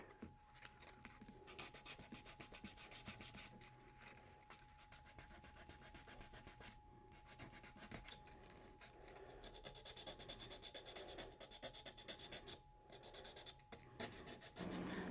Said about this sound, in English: I'm going to start doing a little sanding.